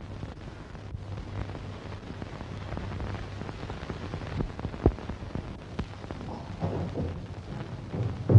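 Monsoon rain falling steadily, a soft continuous patter with occasional louder drops and some wind buffeting the microphone; no voices.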